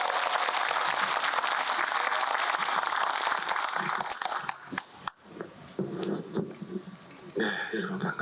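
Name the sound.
audience applause welcoming a lecturer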